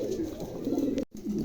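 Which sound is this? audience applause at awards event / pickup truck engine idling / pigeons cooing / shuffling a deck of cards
pigeons cooing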